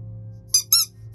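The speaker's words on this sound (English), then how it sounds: "you can do the squeaky toy and you can probably get her attention" A squeaky dog toy gets squeezed three times in quick, bright, high-pitched squeaks over a low steady hum, loud and close.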